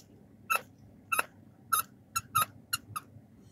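A squeaky rubber dog toy from a pet store squeaks seven times in quick, uneven presses, each a sharp, high, close squeal over a quiet room hum.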